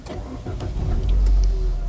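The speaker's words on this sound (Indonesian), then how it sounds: "Mobil sudah menyala." An automatic car started by push button while the brake is held, a brief cranking whir followed by the engine catching and settling into a steady low idle.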